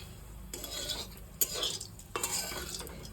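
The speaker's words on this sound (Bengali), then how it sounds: "জিরা প্রায় প্রায় হয়ে গেছে।" Cumin seeds frying in hot oil, stirred with a utensil in a pan, giving a soft continuous sizzle with scraping stir strokes in a few bursts.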